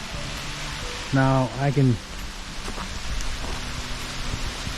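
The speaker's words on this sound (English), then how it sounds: "Start rain heavily again." Heavy rain pours steadily on a foggy mountain trail in the Tanzawa area of Japan, a dense continuous hiss that fills the whole scene, with someone speaking briefly over it.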